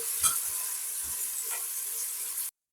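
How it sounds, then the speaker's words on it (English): Marinated mutton sautéing in a hot pan for biryani, a steady bright sizzle and hiss with a few low clunks of stirring, close and continuous until it cuts off abruptly. "we're gonna add our lovely marinated mutton to this. And we're gonna saute him off and get some lovely color on it"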